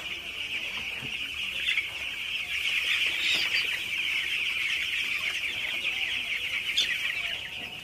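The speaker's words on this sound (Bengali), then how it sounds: "আমি তাড়ানোর পর কিন্তু উঠে মুরগিগুলো খাবার খাইতেছে" A large flock of young broiler chickens in a farm shed keeps up a dense, continuous chorus of high cheeping and clucking, steady and fairly loud throughout with no talking.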